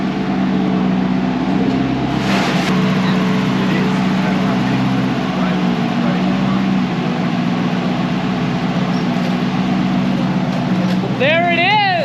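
Nissan 240SX S13 fitted with a 1UZ V8 engine, running with a steady, rumbling idle close by, a short blip near the start and a rising whine near the end, under people talking.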